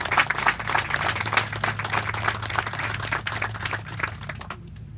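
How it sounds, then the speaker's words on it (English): Applause for Parks and Recreation staff at an outdoor recreation center groundbreaking ceremony, a crowd clapping steadily at moderate volume over a low constant hum for about five seconds, then tapering off. "please give a big round of applause to the Parks and Recreation staff"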